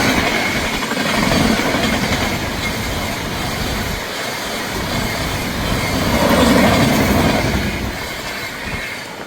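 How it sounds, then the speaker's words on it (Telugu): A Tirupati Express train, number 17481, passes at speed nearby in a loud continuous roar of wheels on rails with rhythmic clatter that swells twice. "మన తిరుపతి ఎక్స్ప్రెస్ చూశారు కదా"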